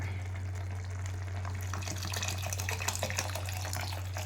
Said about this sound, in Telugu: కొంచెం వాటర్ యాడ్ చేసుకోవాలి